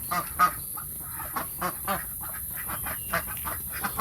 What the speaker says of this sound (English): The ducks are a bit wary, of course. They don't know me.